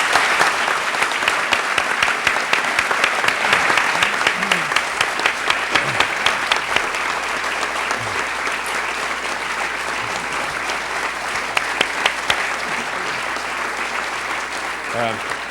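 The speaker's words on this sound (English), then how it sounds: "join me in giving a very warm round of applause to a real profile in courage, Justice Charlie Weltner of Georgia" Sustained warm applause from an audience honoring a speaker, dense steady clapping for about fifteen seconds with occasional louder individual claps and faint voices beneath.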